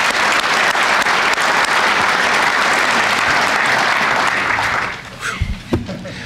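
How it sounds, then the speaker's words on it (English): A large audience at a firefighter academy graduation in Saint Paul gives a loud, sustained round of applause. It holds thick and even for nearly five seconds, then thins quickly to a few scattered claps and small sounds. "One final round of applause for all involved."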